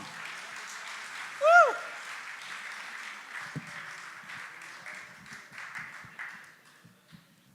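Audience applause and cheering for a performer at a tribute gathering, a warm steady round of clapping that fills the room, with a loud whoop early on and scattered voices underneath as it slowly tapers off.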